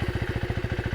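A Husqvarna Svartpilen 401 or 801 motorcycle engine runs with a close, steady, rapid single-cylinder-style thumping pulse at idle, throbbing evenly throughout with no talk.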